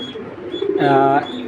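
A racing pigeon gives a short, soft coo close by, with a voice speaking around it.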